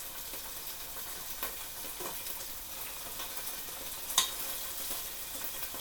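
Taiwanese-style chicken curry sizzles and spits steadily in a pan on the cooker, a quiet continuous hiss broken by faint crackles and one sharper pop near the end, with no talking.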